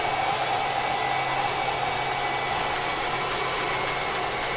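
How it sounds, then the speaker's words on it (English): Motor of a Flagstaff Epro 20BHS RV slide-out drives the slide outward with a constant whirring drone, steady and fairly close, with no pauses. "Slide extends in just a matter of moments."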